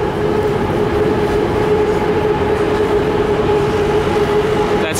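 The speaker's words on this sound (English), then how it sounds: "There's the sky train." A BTS Skytrain runs past Victory Monument in Bangkok, a loud steady rumble with a sustained mechanical hum and a faint clatter of wheels lasting the whole stretch, no voices over it.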